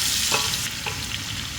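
Finely chopped onions fry and sizzle in hot oil in a pan while being stirred for a masoor dal, a loud, close, continuous crackle with soft scraping.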